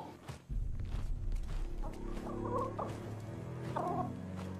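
A rooster crows twice in drawn-out calls over a continuous rumbling background.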